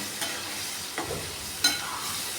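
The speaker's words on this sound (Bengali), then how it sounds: "আমি এখন ভালো করে নাড়াচাড়া করব" Stirring whole mung dal tadka frying in a pan, with a steady low sizzle and a few soft scrapes and clinks of the spoon against the pan, close up with no talking.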